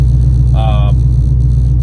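Car engine idling steadily to warm up after a wiring harness swap on a home-built car, a constant low rumble throughout, with a brief faint tonal whine partway through.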